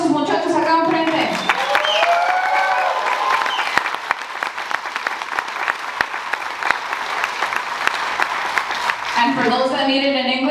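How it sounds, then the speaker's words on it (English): Audience applause at a 2025 high school graduation ceremony for Instituto Justice and Leadership Academy, a steady wash of clapping lasting about eight seconds, with a speaker's voice just before and after it. "Let's give a round of applause for our graduating class."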